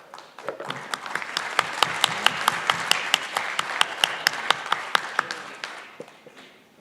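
An audience at a university executive council forum claps for a panel. The applause is moderate and lively, with individual claps distinct, and it fades out after about six seconds.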